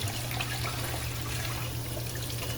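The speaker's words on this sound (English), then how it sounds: "A good shower of water will wash away the dirt completely." Running water showering over a freshly caught crab to wash it clean, a steady close splashing hiss with no breaks and no talk.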